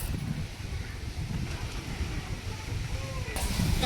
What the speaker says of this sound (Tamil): காற்று செம்ம காற்று.